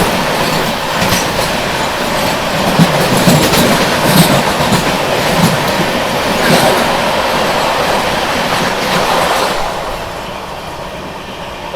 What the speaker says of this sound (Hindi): तो बगल से क्रॉस हुई अमृतसर मुंबई एक्सप्रेस